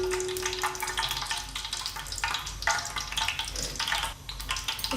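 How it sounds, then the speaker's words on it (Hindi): Whole garam masala frying in about two cups of cooking oil for a beef kachnar curry: a continuous close sizzle with bursts of crackle and brief scraping stirs, no talking. "इसको अच्छी तरह से भून लें।"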